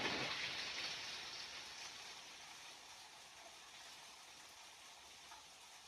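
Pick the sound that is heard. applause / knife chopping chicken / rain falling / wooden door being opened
rain falling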